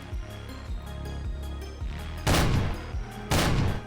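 A two-shell, close-range shotgun in the video game VH3 fires two heavy, loud blasts about a second apart. Quieter rhythmic game sounds run beforehand.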